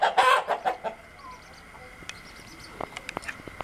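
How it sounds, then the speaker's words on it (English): Farm chickens cluck nearby in a loud burst of rapid calls at first, then fade to scattered faint clucks and clicks. "Chicken!"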